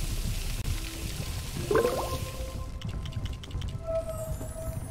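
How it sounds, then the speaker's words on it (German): Water fills something in LEGO Harry Potter: Years 5-7, a brief rising gurgle over a low game ambience, followed by light clinks and a soft tonal chime. "Dann befüllen wir das hier mal mit Wasser."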